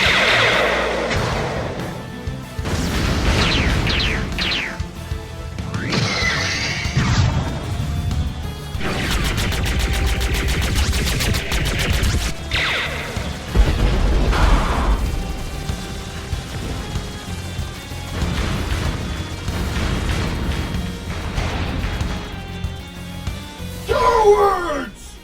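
A Transformers stop-motion battle of Autobots firing weapons: dense, loud bursts of blaster fire, crashes and explosions roll on almost without a break, with shouted voices mixed in among the effects.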